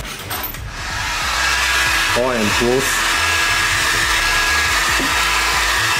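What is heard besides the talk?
hair dryer blowing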